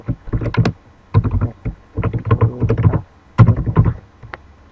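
Bursts of quick clicking keystrokes on a computer keyboard while a script is entered, coming in several close, loud clusters separated by short pauses, with no talking.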